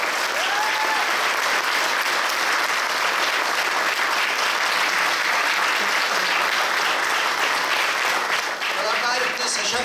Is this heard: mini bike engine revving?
no